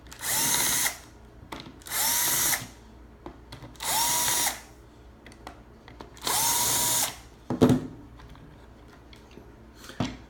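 A power tool drives out screws from an OJMAR coin lock body in four separate whirring bursts of about a second each, close and loud, with small clicks and handling knocks between them.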